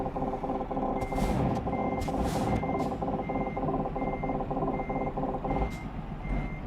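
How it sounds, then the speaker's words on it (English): A truck in Euro Truck Simulator 2 reverses with its proximity alarm giving evenly spaced high beeps over a loud, steady diesel engine drone, and short hisses of air brakes burst out now and then. "That sound you hear is the proximity alarm"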